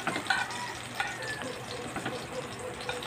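Tuyo, dried fish, sizzles and crackles in a frying pan, a steady low hiss with small pops and a brief scrape as it is flipped over.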